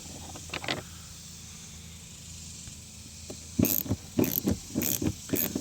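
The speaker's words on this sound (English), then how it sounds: "you can use a 10mm here like I'm using to get these two sneaky screws" Ratchet with a 10mm socket backing out screws on a 2012 Nissan Altima door panel, a few quick clicking bursts in the second half after a quiet stretch.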